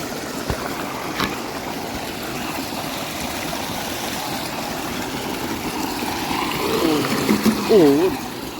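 Water gushes from a roadside borewell into containers being filled, a continuous splashing flow with faint voices in the background and a few sharper clanks and wavering tones near the end.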